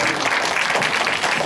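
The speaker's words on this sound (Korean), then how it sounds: "박수 부탁드리겠습니다" An audience applauds steadily at a sign-language charity concert at a Buddhist temple, a dense continuous clapping that stays even and fairly loud throughout.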